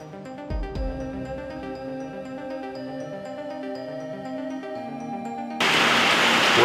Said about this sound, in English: Welcome to this glorious rainy day here in the desert.